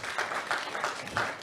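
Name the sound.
audience clapping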